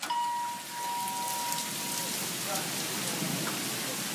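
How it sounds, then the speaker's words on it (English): Heavy rain pours steadily during a hailstorm with thunder and lightning, a dense, continuous hiss, with faint tonal sounds drifting in the background. "this rain is so hard"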